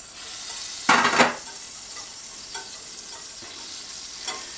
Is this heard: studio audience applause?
no